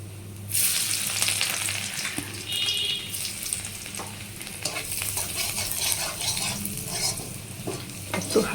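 Chopped garlic fries in hot oil with cinnamon and green cardamom for a soybean curry. A close, continuous hissing sizzle begins abruptly and runs steadily with light stirring clatter, and no one speaks.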